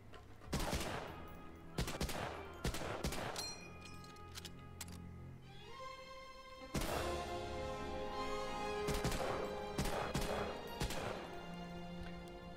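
M1 Garand rifle fire in the video game Medal of Honor: Allied Assault, a series of sharp, loud shots spaced across the stretch with metallic clanks between them, heard alone without talk.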